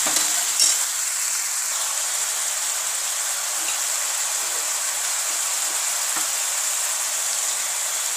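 Onions and spices sizzle steadily in a frying pan while a carrot, pea and potato curry is being cooked; a continuous close, hissing fry with faint stirring clicks and no talk.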